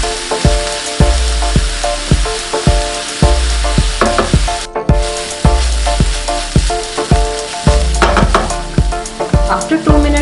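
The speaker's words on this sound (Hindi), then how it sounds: "इसको भी 2 मिनट तक फ्राई कर लेंगे" Chopped vegetables for a red lentil kebab mix sizzle loudly in a hot pan, with steady frying hiss and a regular rhythm of spoon stirring strokes throughout, no voices.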